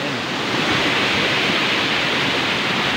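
Waterfall of clear flowing water: a loud, continuous broadband rush that stays even throughout, with no voices.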